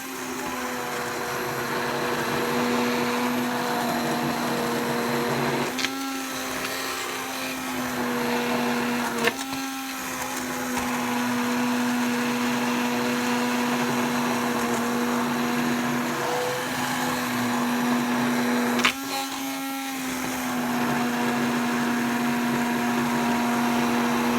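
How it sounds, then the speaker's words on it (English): A blender purees soup made from cauliflower leaves with a steady high motor whine, close and continuous, broken by a few brief pauses and pitch dips as the load shifts. "Otherwise, if you want it just smooth, continue whisking it."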